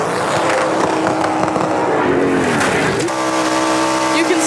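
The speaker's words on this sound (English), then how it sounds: "So we're gonna play the sound of a car." Hoonicorn car engine slamming against its rev limiter, a loud, close, sustained howl that drops in pitch around the three-second mark, then holds a steady droning buzz.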